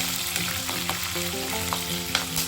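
Chopped green chillies fry with dried red chillies in a pan, making a continuous close sizzle broken by light crackles and the scrape of stirring, with no one talking.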